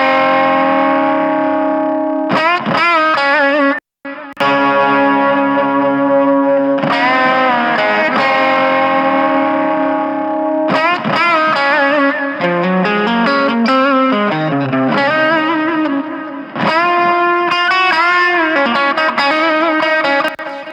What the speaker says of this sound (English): I just love slapping Echoboy on everything, and I love, for guitar solos, this analog quarters and eighths preset.